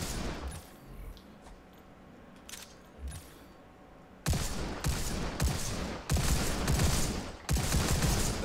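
Gunfire from a weapon in the VR shooter Robo Recall, starting after a quieter stretch as several loud, rapid bursts of shots, close and dense, running one after another to the end.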